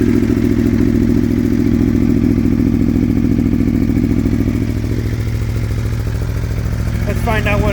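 A 2017 Aprilia Tuono Factory 1100 idles just after a cold start, a loud, close, lumpy engine rumble with a rapid pulsing beat that eases slightly near the end.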